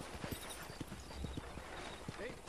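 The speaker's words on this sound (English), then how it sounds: "This is my horse." A horse clip-clops along a ranch in the video game Red Dead Redemption, a quiet, steady run of hoofbeats under faint game ambience and some background talk.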